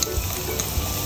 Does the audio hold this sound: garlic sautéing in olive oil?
yes